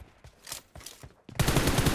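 Video game gunfire: several separate close shots, then a dense, loud burst of rapid automatic fire, with no talking.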